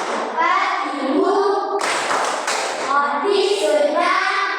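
Children clap along in a classroom goodbye chant, rhythmic hand claps mixed with their chanting voices throughout, lively and close.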